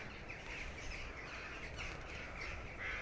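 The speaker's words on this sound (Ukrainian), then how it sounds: "Скільки ворон в цьому році багато." Faint crows caw in a garden, distant calls repeating under a steady wash of outdoor background noise.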